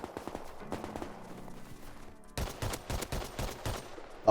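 AK rifle gunfire in a survival shooter video game, rapid sharp shots in bursts, a quieter spell with a faint humming tone, then a louder volley of close shots near the end.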